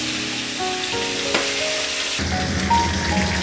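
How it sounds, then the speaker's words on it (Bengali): Fish heads fry in hot salted oil, a broad close sizzle that swells and grows denser partway through, with a faint utensil knock amid the steady crackle. "এবার মাছের মাথাগুলো আমি আস্তে আস্তে তেলে ভেজে তুলে দেব।"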